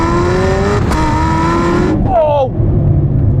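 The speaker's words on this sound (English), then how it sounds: "It's like a gun going off when you change gears." A 1200hp hypercar accelerates hard and loud, engine note climbing steadily, then a sharp crack-like gear change near the middle before the revs rise again. A voice talks over it.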